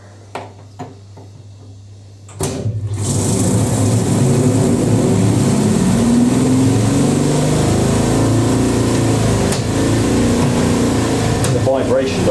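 A 1980s Ariston by Colston Electronic 3000 spin dryer starts after a few light knocks and then runs a long spin, with a loud steady motor hum and drum rumble, and a voice talking over it.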